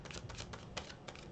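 Tarot cards are shuffled in a quick series of faint, close, crisp riffling clicks with no talking.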